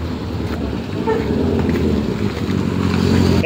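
Honda ADV scooter riding fast, a steady engine drone mixed with heavy wind rush across the whole stretch, with brief voices heard faintly under the noise.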